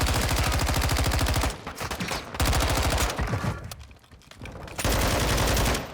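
Rapid automatic gunfire in the Call of Duty Warzone video game, several long loud sustained bursts separated by brief quieter gaps with lingering echoes.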